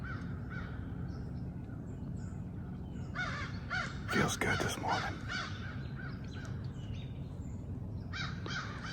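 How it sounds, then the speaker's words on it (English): Crows caw loudly in a burst of harsh repeated calls, several birds at once, at the edge of a thicket in the morning, with someone speaking briefly and quietly over the outdoor ambience. "Damn crows going crazy."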